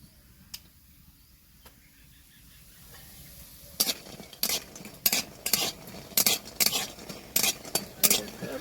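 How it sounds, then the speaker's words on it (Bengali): After a quiet start, a spoon scrapes and clatters against a pan in a quick regular rhythm over a soft background sizzle of homemade lentil dumplings (bori) frying in oil. "বড়িগুলো লাল লাল ভাজা হয়ে আসছে"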